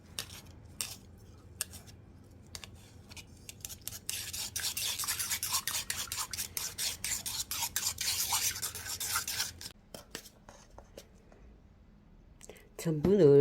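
Eggs seasoned with salt are beaten in a bowl, a continuous scraping, rubbing whisk sound with clinks against the dish, rising to several seconds of steady beating before easing off.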